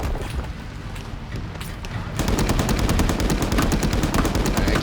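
A vehicle-mounted 40 mm cannon firing explosive rounds in the Call to Arms video game, loud rapid bursts of shots that thicken into a dense, continuous volley partway through, with no talk.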